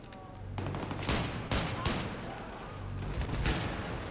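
Gunfire in the co-op mode of the video game Battlefield 3, dense volleys of shots and bursts overlapping in waves across the whole stretch, loud and close, with no talk over it.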